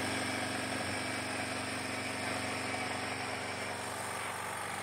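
A Fly Speed FS 4000 nitrogen tire inflator fills its tank with air, giving a steady, low, continuous mechanical hum and hiss that holds at a constant moderate level with no voices.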